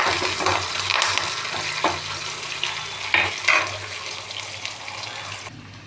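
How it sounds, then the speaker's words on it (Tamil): Crushed garlic fries with onions in a pan, giving a steady sizzle under scraping stirs and a few sharper clinks, all close and fairly loud with no voices. "தட்டி எடுத்துக்கிட்டு அந்த வெங்காயத்து கூட போட்டு வதக்கிடலாம்."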